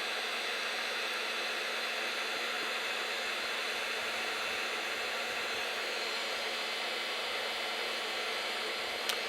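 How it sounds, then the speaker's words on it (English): A steady, loud blowing roar with a hissy whoosh from a heat gun or hair dryer drying a coating on motorcycle engine parts, running continuously; no one speaks. "you can speed it up by using a heat gun or a hair dryer."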